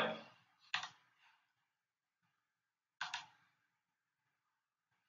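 Two sharp, close computer mouse clicks, each followed by a brief softer tail, come about two seconds apart in an otherwise quiet room.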